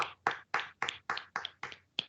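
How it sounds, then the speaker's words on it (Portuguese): About eight sharp hand claps in a steady rhythm, close and clear, applause for a student in an online class. "Palmas para a Francisca."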